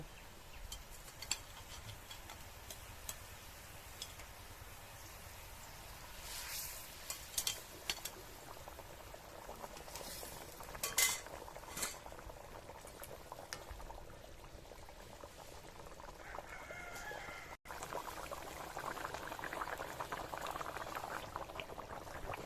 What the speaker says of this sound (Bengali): ঝোলটা ফুটে উঠেছে, এর ভিতরে মাছগুলো দিয়ে দেব।